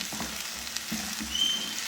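Chutney sizzles and fries in a pan, a steady soft crackle with occasional stirring scrapes and small bursts, close and continuous with no voices.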